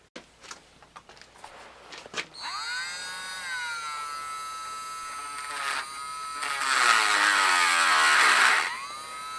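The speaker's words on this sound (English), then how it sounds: "Dremel time, I think." A Dremel cutting into a part of a Tecumseh HSSK50 small engine, whining steadily and shifting pitch as the cut proceeds, loud and close, after a few scattered knocks and clicks at the start.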